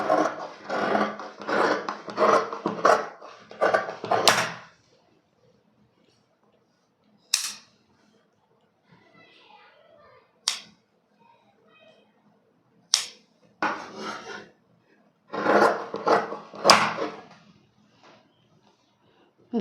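Scissors cutting blouse cloth to shape a sleeve: several bursts of rasping, crunchy snips close up, separated by quiet pauses, with faint talk in between.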